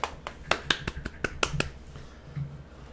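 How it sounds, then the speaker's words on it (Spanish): Claps in the Paper Mario: The Origami King video game sound as a quick run of sharp, snappy hand-clap hits at moderate level, then fade into quiet background game audio. "Ah, mira, aplaudimos."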